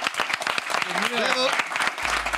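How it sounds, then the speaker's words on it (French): Audience applause for a boy named Mathéo during a live French show recording, a short steady patter of clapping with voices and some tonal sounds rising through the middle. "Donc on va t'applaudir"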